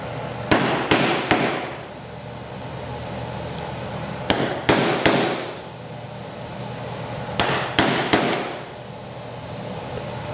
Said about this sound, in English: We'll go back to our chisel. And now we'll cut this side.